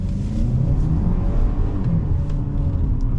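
A 2024 Ford Escape pulls away hard in sport mode, its engine a steady, loud, close rumble and whir from inside the cabin as it gets off the line quickly, with no talk.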